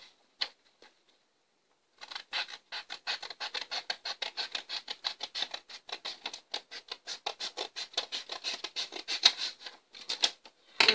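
Paper being cut with scissors to make a folded water bomb, a steady run of short crisp snips and rasps at close range, evenly paced for about nine seconds after a few isolated cuts.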